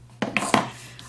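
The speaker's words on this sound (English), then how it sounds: "Now I'm going to punch these out, so make sure you leave a space between them." A paper punch cutting shapes out of card, three sharp, close clacks in quick succession followed by a brief quiet tail, with no talking.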